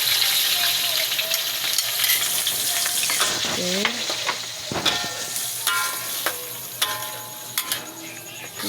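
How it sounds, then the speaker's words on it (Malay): Blended onion fries in hot oil, sizzling and crackling steadily, with a sharp burst of spitting and clattering partway through, then a continued hot sizzle. "minyak pun macam dah panas dah tu. Kita masukkan bawang yang telah di blender."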